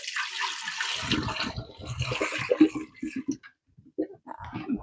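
Water from cooking pasta pours out of a pot into a sink with a splashing, gushing rush that breaks into short uneven splashes and trickles, close and fairly loud, while a person talks over it.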